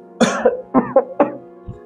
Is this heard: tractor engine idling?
no